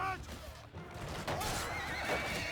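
Horses whinny repeatedly amid a battle in the video game Mount and Blade, shrill neighs rising over a dense, noisy clamor with hoofbeats and voices mixed in.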